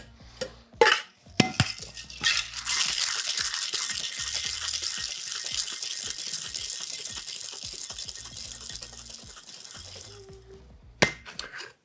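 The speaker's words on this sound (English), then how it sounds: "A bit of pebble ice, and then I'll whip shake." A cocktail whip-shaken in a shaker with a small amount of pebble ice, giving a steady, loud, fast rattling slosh for several seconds, with a few sharp knocks at the start and end.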